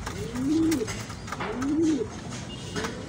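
Pigeons coo inside a breeding room, two clear rolling coos about a second apart, close and moderately loud over a low background hum.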